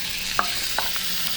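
Food frying in a pan while being stirred until well browned, a steady sizzle with a few sharp scraping clicks of the spoon against the pan.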